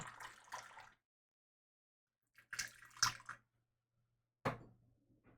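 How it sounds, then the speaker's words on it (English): Water is poured from a height to steep tea, coming in three separate splashing bursts with silent gaps between them, close and faint. "High pour so it don't hurt you."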